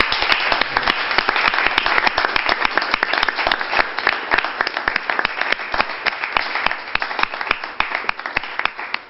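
Sustained applause from a church congregation, many hands clapping steadily and fairly close for several seconds without letting up.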